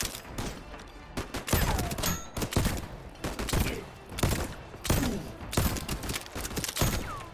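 Gunfire rattles in the Void Train video game as repeated bursts of rapid shots, loud and close, with short pauses between volleys and faint game sounds beneath.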